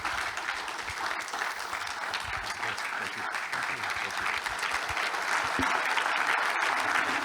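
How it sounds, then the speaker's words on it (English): Steady, dense audience applause fills a conference hall after an interview with the CEO of Access Holdings, a sustained, even wash of many hands clapping at moderate distance. "A big round of applause, please"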